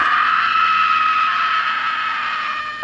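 A man screams awake from a nightmare in a horror film scene, a sustained, loud, strained cry that holds steady for a few seconds before tapering slightly.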